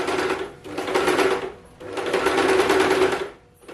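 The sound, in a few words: sewing machine stitching zig-zag pattern on fabric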